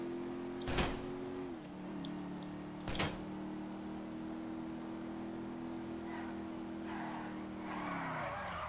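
A car in a video game drives with a steady, sustained engine drone that shifts pitch as it skids. Two sharp bang-like bursts cut through early on, and scuffing noises build near the end.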